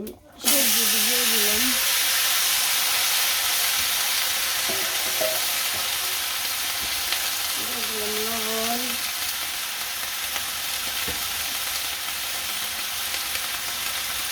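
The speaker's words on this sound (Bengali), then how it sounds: "পটল ভাজা হয়ে গেছে" Pointed gourd fries in a pan with a loud, continuous sizzling hiss that holds steady throughout, while a voice speaks briefly over it.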